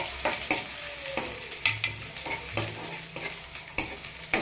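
A thick onion frying in a pan with cumin and curry leaves, sizzling steadily while a utensil stirs and scrapes with repeated clicks and knocks against the pan, no voices present.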